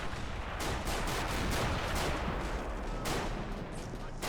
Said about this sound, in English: We see some range fire from the medium neon purple tanks